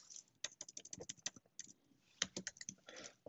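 Fast, irregular typing on a computer keyboard while working in a spreadsheet, with crisp close key clicks in bursts and a short pause midway.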